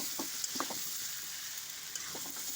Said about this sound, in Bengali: টমেটো দিয়ে টমেটো সহ কষিয়ে নিব। ভালো করে কষে নেই।